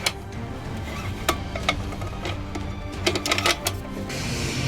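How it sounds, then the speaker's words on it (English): Small metallic clicks and clacks come from a Thompson Center Performance Center LRR bolt-action rifle in 6.5 Creedmoor as its bolt is released by a lever and slid out, sharp and close, in a few brief bursts against a quiet background. "To release the bolt, there is a lever right here, and you can just bring it right out."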